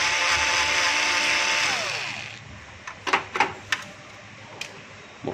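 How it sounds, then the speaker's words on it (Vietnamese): A power screwdriver whirs steadily and winds down while removing screws from the ADF cover of a Toshiba copier, followed by several sharp clicks and small metallic taps from the parts and screws, all close. "chúng ta tiến hành tháo bốn ốc ngoài cùng thôi nhé."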